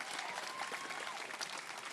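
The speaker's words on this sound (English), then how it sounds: "Give Bill Curry a big round of applause" Crowd applause at an SCLC and NAACP Youth Coalition civil rights march in Tuscaloosa, Alabama: a steady, dense wash of many hands clapping outdoors, sustained evenly throughout.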